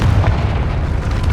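A Confringo fire spell explodes in the video game Hogwarts Legacy, a loud, sustained low booming blast that rumbles steadily for over a second with no talking.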